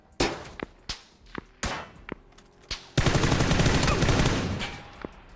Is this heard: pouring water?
no